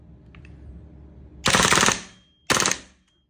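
A WE 888C HK416C gas blowback airsoft rifle fires on full auto in two short, loud, rapid bursts about a second apart, with near silence around them.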